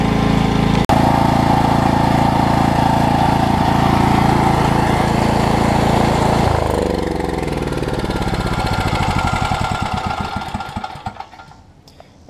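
A Coleman generator powered by a Briggs & Stratton Vanguard engine, once water-damaged and frozen, runs loud and steady with a constant engine drone, then its tone shifts and the sound winds down and grows rougher toward the end.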